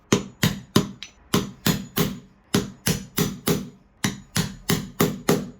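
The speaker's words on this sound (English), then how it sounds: "This actually cuts through the grain of the timber and prevents it from splitting as we chisel this back section." A chisel struck with a hammer to cut back timber for fitting a Yale night latch, about fifteen sharp, close knocks in a steady rhythm with a few short gaps, no talk.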